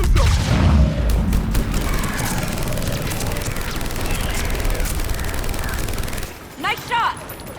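Mass Effect 3 battle gunfire, dense bursts of automatic fire and booming impacts rattling close and loud, easing into scattered shots with voices calling out near the end.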